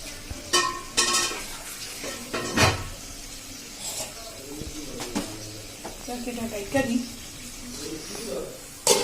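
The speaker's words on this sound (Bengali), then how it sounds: "পানি দিয়ে দিই।" Water is poured into a cooking pan of spiced masala being fried for a potato-and-egg dish, heard as short splashing bursts among kitchen clatter while someone talks throughout.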